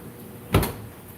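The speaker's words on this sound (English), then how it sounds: "Close the door." A door swings shut beside a home aquarium, a single brief thud near the mic with a short rattle, over quiet room hum.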